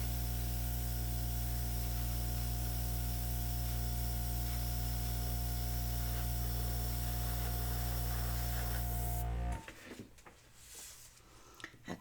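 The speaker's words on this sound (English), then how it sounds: "then we will airbrush that side out" Steady airbrush hiss spraying acrylic paint during an acrylic pouring session, with a low continuous hum underneath, holding evenly for about nine seconds before cutting off abruptly into near silence.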